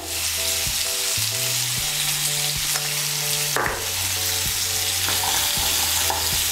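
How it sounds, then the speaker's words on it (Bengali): Spice paste of turmeric, ginger and cumin frying in a pan with pumpkin for curry gives a loud, steady sizzle with occasional stirring scrapes, close and without speech. "মিশিয়ে নিয়ে মশলাটাকে একটু ভেজে নেব"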